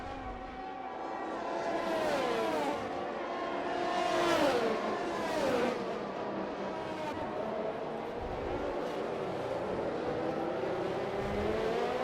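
Formula race cars in a racing video game at the Mexico circuit, a close wheel-to-wheel battle with several high engine whines rising and falling through gear changes, fairly loud and continuous with no talk.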